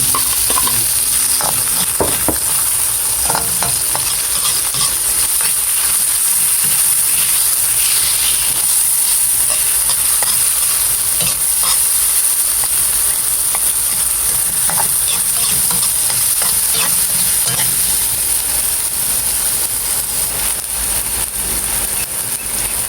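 Tomatoes sautéing and being stirred in a hot pan for mung bean stew, giving a loud, unbroken hiss and sizzle with scattered scraping stirs that lasts a long stretch.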